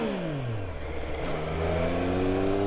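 A 2023 Triumph Street Triple RS motorcycle engine revving up and falling back, with clear rising and falling tones, moderately close and heard alone.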